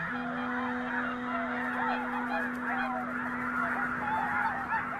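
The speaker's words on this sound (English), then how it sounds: "Whooper swans from northern Europe flock together in huge numbers." A large flock of whooper swans from northern Europe calling together, many overlapping honking and trumpeting notes over a steady background with one sustained tone, busy and continuous.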